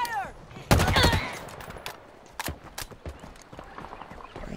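Gunfire in the Halo Infinite campaign: a loud burst of rapid shots early on, then scattered quieter single shots and impacts over a busy combat background.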